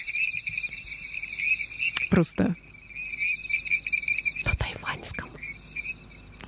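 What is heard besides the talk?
recording of olive frog calls from Taiwan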